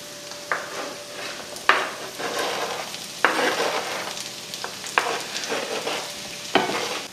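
Sliced apples frying with softened shallots in a hot pan, a loud steady sizzle broken by several sharp clatters of a utensil stirring and scraping the pan, with no talk.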